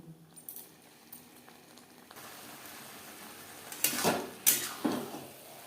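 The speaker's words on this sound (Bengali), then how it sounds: "মশলাও আলুর সাথে বাঁধাকপি বেশ ভালো করে মিক্সড করে দেবো" Cabbage being stirred with potatoes and spices in a pan: soft scraping and sizzling at first, then a few sharp metallic clanks of the spoon against the pan close by, with no talking.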